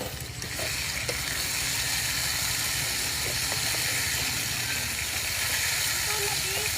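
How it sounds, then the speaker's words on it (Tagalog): Food frying in a pan ahead of cooking chicken gizzards gives a steady, dense sizzle and hiss throughout, close and even, with a low rumbling bed underneath. "Iprituin lang natin to bago natin lutuin ang balon-balunan"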